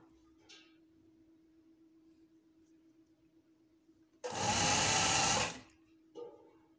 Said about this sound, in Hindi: ऊपर करते जाना है और इसको सिलाई करते जाना है